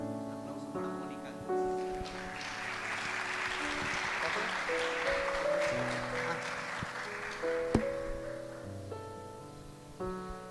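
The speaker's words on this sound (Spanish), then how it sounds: "Aplausos para Mónica." A church congregation claps for a woman named Mónica during a service, a soft, dense patter of applause swelling for several seconds under organ or keyboard tones, with a voice speaking over it.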